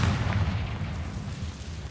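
The Confringo fire-blast spell bursts inside a tomb in Hogwarts Legacy: a single heavy, booming impact with a rumbling low end that slowly fades.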